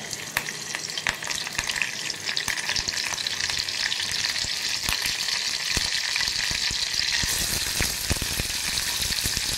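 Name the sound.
curry leaves frying in hot oil for prawn masala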